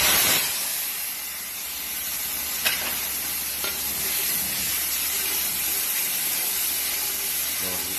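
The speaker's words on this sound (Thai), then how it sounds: "คุณผู้ชมหลังจากน้ำมันร้อนได้ทีแล้วนะครับ ใส่พริกแกงลงไปครับ" Curry paste dropped into hot oil for a Mun River catfish curry sizzles loudly and steadily, a dense close frying hiss with a few stirring scrapes and no talking.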